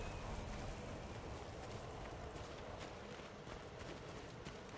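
Horse hooves clip-clopping in the Ghost of Tsushima video game, a dense continuous patter of hoofbeats under a steady wash, with no clear speech.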